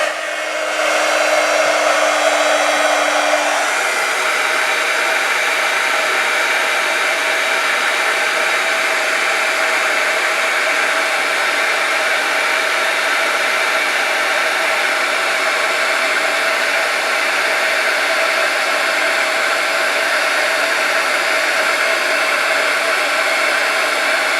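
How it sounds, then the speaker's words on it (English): A heat gun used to melt embossing powder on a sticky sheet blows a loud, steady airy whir that holds unchanged for over twenty seconds after a brief higher-pitched start-up, with no talk. "I'm going to take my heat gun, I'm going to heat it up for a second, and then melt all this powder on this sticky sheet"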